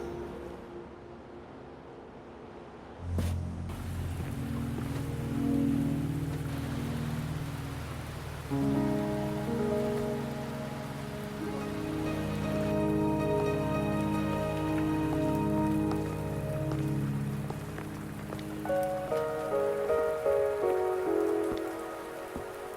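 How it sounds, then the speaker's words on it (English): Rain in the video game Wuthering Waves, a steady hiss of drops on surfaces under sustained game music that swells and shifts throughout. "Are you trapped here by the rain?"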